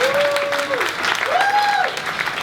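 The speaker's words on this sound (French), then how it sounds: "On peut applaudir cette personne." An audience applauding at a live stage show, steady close clapping that runs the whole time under a drawn-out sung or whistled tone.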